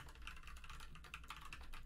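Fast, continuous typing on a clicky mechanical keyboard, close up, with a dense run of sharp key clicks and no talking.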